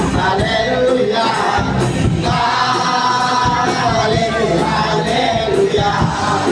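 A crowd of worshippers at a joint church service shouts and whoops in praise, giving a continuous, loud swell of many voices with sharper cries breaking through at intervals.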